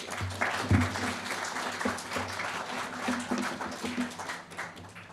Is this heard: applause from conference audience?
yes